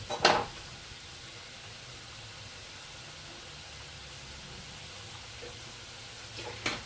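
Mushrooms fry in butter in a pan with a soft, steady sizzle that stays low and even throughout, broken only by brief clattering stirs at the start and end, with no talking.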